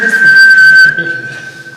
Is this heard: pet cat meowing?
no